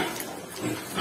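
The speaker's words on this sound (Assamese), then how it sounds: "এটা গাহৰি" Pig on a small local pig farm in Assam grunting and oinking in short, close bursts over about a second, with some farm background noise around it.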